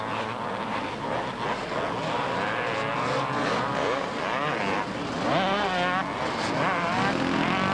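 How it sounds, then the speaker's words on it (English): Four-stroke 500 Husqvarna motorcycle racing on a beach course in a 1992 Southport race, engine revving and droning continuously at a steady loud level with other bikes and a commentator's voice mixed in. "74, nice four-stroke 500 Husqvarna belonging to Thomas Banks."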